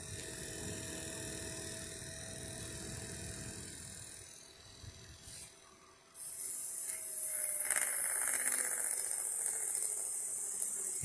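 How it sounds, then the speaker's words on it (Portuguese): A treadmill motor spins with a steady mechanical whine and hiss; the drone eases and dips briefly midway, then returns louder and brighter with a stronger hiss. "Isso aqui é motor de esteira."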